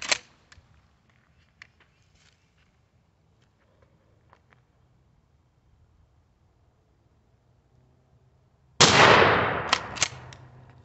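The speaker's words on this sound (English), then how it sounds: "Shot number 2, 20 yards." A single loud shotgun blast from a Remington 870 Express Magnum 20 gauge fitted with a Truglo turkey choke, fired at a turkey target 20 yards away, breaks a quiet outdoor stillness near the end, followed by a short clatter.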